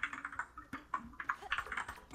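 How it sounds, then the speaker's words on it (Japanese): Rapid computer keyboard typing during an online game match, a quick irregular patter of key clicks, fairly faint and close, with no talk over it. "キーボードの音聞こえるもん。"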